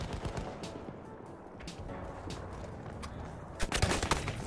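Gunfire from the game Battlefield 1 crackles through a busy battlefield, with scattered distant shots and a louder close burst near the end, over a constant rumbling background.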